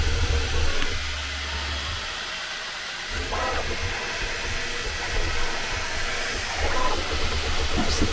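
A Bambu Lab A1 3D printer runs a print, giving a steady close whirring and hissing drone with slight shifts in pitch as the print head moves.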